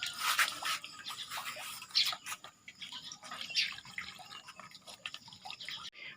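Water mixed with hydroponic AB nutrient solution poured into a reservoir tank, a steady close trickle and splash with irregular drips throughout, no talking.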